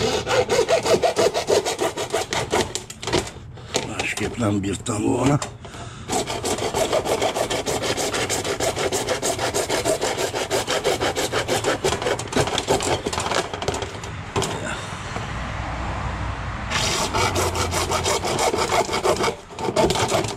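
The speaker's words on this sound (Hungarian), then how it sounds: "Na, hát csak a fűrészt ki kellett hozzam." A hand saw cutting through wood in steady, rapid back-and-forth rasping strokes, loud and close, with a couple of short pauses and a brief spoken remark partway through.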